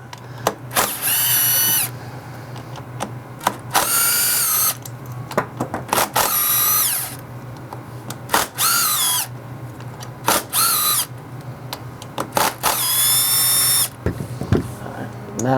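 A power tool fitted with a 10mm socket spins out motorcycle clutch cover bolts in a star pattern, roughly eight loud, close whirring bursts separated by short pauses.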